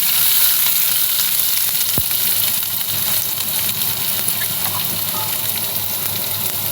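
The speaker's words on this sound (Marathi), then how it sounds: "आता कांदा घालते।" Onion goes into hot oil with garlic already browning for a dill leaf stir-fry, bringing a loud, steady close-up sizzle and crackle that hisses on unbroken, with one sharp clink of a utensil.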